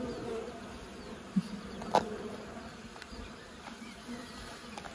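Honey bees hum steadily around hive frames in a rural countryside apiary, a continuous close buzz with a couple of sharp clicks from the frames.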